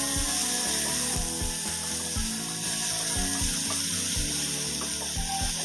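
Ginger, onion and garlic paste sizzles in a pan with fried onions while being stirred, a quiet, steady frying hiss broken by regular clicking scrapes of the spoon, with no voices.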